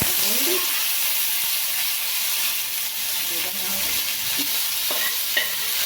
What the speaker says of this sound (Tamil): வேர்க்கடலை ஒண்டி எடுத்து கடாயில் போட்டுக்கலாம்.